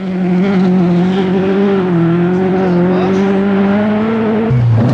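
A Ford Escort rally car at speed on a 1985 Granite City Rally stage in the northeast of Scotland gives a loud, sustained engine note close by, its pitch holding steady and then dropping near the end, with no talk.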